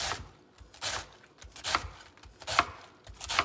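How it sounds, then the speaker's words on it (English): A knife chops through less than half a head of cabbage on a board in irregular bursts of firm cuts, close and fairly loud, with no talking. "So I cut it all that way, and then I just turn it, and I cut it this way."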